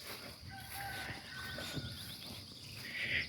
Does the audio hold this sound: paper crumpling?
no